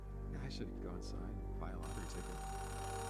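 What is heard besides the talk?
payphone ringing in the video game Oxenfree 2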